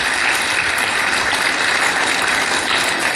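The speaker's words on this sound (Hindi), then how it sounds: "जोरदार ताली बजा दो।" Loud, continuous applause comes from schoolgirls at a Patanjali girls' gurukul in Haridwar. The clapping is dense and even and lasts the whole time, with no voices over it.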